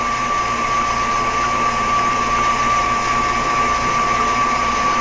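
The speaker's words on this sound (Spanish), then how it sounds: "Aumentamos la velocidad para batir las claras a punto de merengue." An electric mixer whirs at high speed, beating egg whites into meringue peaks for a sponge cake, a steady, unbroken drone with a constant whine that runs throughout, heard alone.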